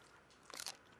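A single crisp crunch of teeth biting into a hard frozen grape, brief and close, in an otherwise very quiet moment.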